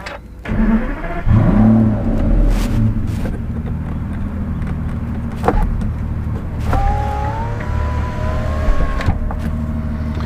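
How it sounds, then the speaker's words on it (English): An Aston Martin V12 S engine cranks and fires up, settling into a deep rumbling idle with a brief whirring motor tone later, close and loud. "we'd go ahead and do the startup on it so you can get a feel for the exhaust on the car"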